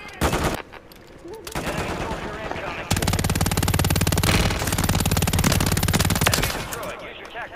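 Sustained, rapid automatic fire from an MTZ-Interceptor in the video game Warzone 3 rattles loud and continuous, with a short break before another long burst.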